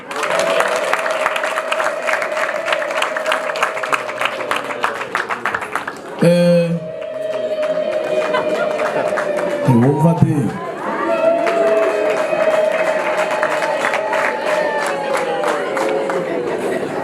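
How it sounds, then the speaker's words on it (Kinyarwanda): Loud applause and rising cheers from guests at a Rwandan wedding and cultural ceremony, with sustained high ululating trills over dense clapping, a brief spoken exchange midway, then clapping and ululation swelling again. "amashyi n'impundu."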